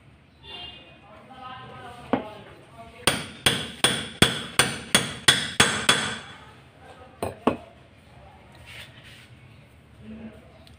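A hammer strikes metal in a quick run of about ten sharp, evenly spaced blows while a sewing machine carrier is fitted into place, followed by two more knocks, with a voice talking softly before and after.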